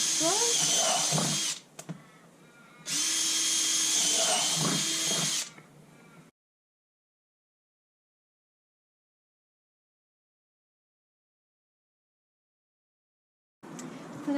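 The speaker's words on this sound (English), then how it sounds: "drill at every intersection that I've marked. Being plastic, it's nice and easy." A power drill whines in two loud bursts, each a second or two long, drilling holes in a plastic bin, with brief quieter gaps, then silence before another burst starts at the end.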